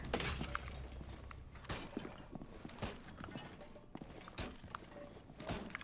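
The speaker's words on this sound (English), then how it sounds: "Smashing my shield" Repeated crashing and smashing impacts as a shield is battered in a multiplayer video game, several sharp hits in quick succession over a noisy background of fighting.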